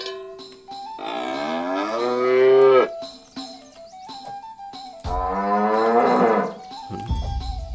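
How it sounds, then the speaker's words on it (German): A cow in the video game South Park: The Stick of Truth gives two long, loud, drawn-out moos, each lasting about two seconds, with short clinking cowbell-like knocks between them. "Das war die Kuh."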